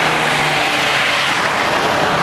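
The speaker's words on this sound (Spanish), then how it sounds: "los autos pasan a 100 por lo menos" Fast cars rushing past on a Mexican highway near the Necaxa dam, a steady loud broadband roar of tires and engines at around 100 km/h, with no talk.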